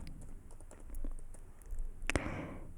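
Keys on a computer keyboard clatter in a quick, irregular run of close, crisp taps, ending with a louder pair of clicks.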